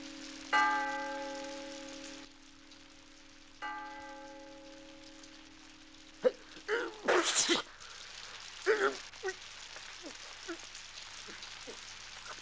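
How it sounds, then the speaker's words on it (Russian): A man sneezes in a drama film several times in quick succession, the bursts loud and close. Ringing bell-like tones sound earlier, before the sneezes. "Прекрати чихать, сволочь!"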